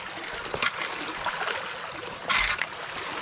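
Creek water runs steadily with a constant trickling wash carrying sediment and debris, with a couple of brief splashes standing out above the flow.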